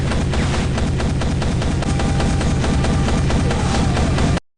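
An automatic shotgun blasts through a crowd of soldiers in a movie fight scene, a loud, unbroken barrage of rapid shots that fills the whole stretch before cutting off abruptly.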